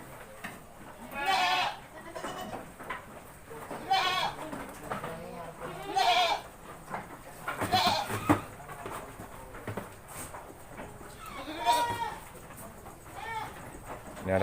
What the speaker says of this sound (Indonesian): cari kambing di kandang milik Mas Budi